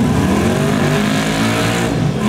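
Drag race car accelerating hard on the strip, a loud, close engine howl climbing steadily in pitch with dense harmonic roar, sustained without a break.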